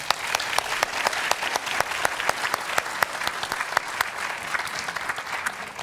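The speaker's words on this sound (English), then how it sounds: "I would like to give all the fathers in the audience a round of applause." Church congregation applauding fathers at a Father's Day Sunday service, a steady dense clapping that holds evenly throughout with sharp individual claps standing out.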